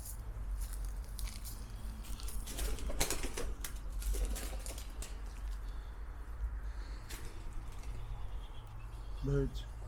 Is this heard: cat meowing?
no